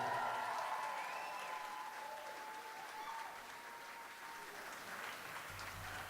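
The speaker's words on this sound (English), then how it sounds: "Let's give a round of applause for our couple here." Wedding guests applauding the couple at The Merion in Cinnaminson, NJ, a steady wash of clapping that holds loud at first and eases slightly over six seconds, with a faint tone lingering beneath.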